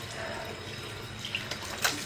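Water runs steadily from a tap to rinse off a facial peel, a soft continuous splashing with a few small clinks near the end.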